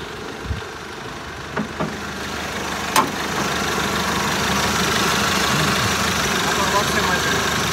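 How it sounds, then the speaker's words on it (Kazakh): A Mercedes Sprinter van engine idles steadily with a low, even rumble throughout, a few brief knocks near the start and a voice speaking faintly over it. "Мотор үнү аябай жумшак, таза иштеп жатат."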